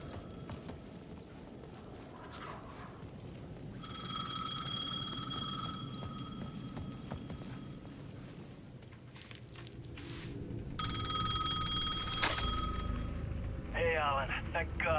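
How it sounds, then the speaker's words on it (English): A payphone ringing in the video game Alan Wake 2, with two long bursts of bright electric bell ringing separated by a pause. Low ambient rumble sits under the ringing and a further faint electronic warble follows at the end. "The payphone at the edge of the plaza was ringing again."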